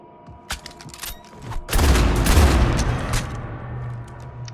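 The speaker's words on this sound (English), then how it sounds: "That shotgun doesn't fire that fast." Mass Effect 3 shotgun fire: a rapid burst of heavy blasts, loud and close, with a dense rumbling volley at the center and sharp shots before and after.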